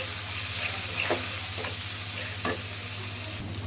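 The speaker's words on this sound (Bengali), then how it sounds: "এখন আমি সব মশলাগুলো আবার একটু কষিয়ে নেব" Spices with turmeric powder and salt sautéing in a pan, a steady broadband sizzle with several scraping stirs of a spoon spaced through it, close and fairly loud, with a low hum beneath and no talking.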